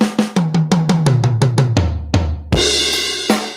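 One-bar fill on a drum kit, quick even strokes descending around the toms from high to low pitch, ending in a loud crash cymbal wash over a deep drum hit, with another crash near the end.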